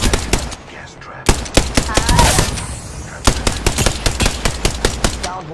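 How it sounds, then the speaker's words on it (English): Gunfire in the Apex Legends video game: loud close bursts of rapid automatic shots in two main volleys, with a brief whooshing effect between them and no speech. "They're shooting at me!"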